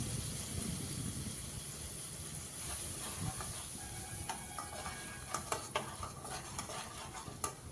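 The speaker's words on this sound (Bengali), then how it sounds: "সব কিছু দেওয়ার পর আরও 2 থেকে 3 মিনিটের মতো কষিয়ে নেব।" Mustard-paste masala for a katla fish curry being stirred in a pan with a splash of water, a steady sizzling hiss under scattered scraping clicks of the spoon that grow sharper toward the end.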